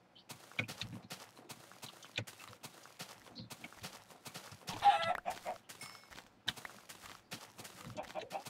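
Clucking chicken in the Minecraft video game, short bursts popping up over a steady patter of footsteps and game noise, with one louder squawk midway.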